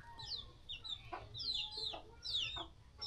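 Farmyard chickens cluck and chatter nearby in a quiet setting, several short repeated calls rising and falling over a soft low background.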